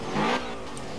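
BMW M5 engine revving as the accelerator is pressed with the brake held, a short rising burst that peaks and then settles back to a steady idle hum, heard close and alone.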